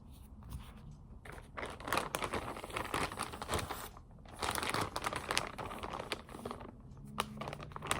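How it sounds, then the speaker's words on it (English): Plastic wrappers being crinkled and crumpled while erasers are unwrapped, a busy stream of close crackling and rustling that continues throughout. "Just finished unwrapping all these erasers."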